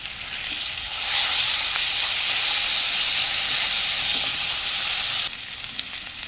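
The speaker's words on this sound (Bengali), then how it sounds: "পেঁয়াজটা একটু ভাজা ভাজা হয়ে এসেছে।" Onion with garlic paste fries in a pan, giving a loud, close, continuous sizzle and hiss that swells after a second and eases slightly near the end, with no talking.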